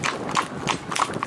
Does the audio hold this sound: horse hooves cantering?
yes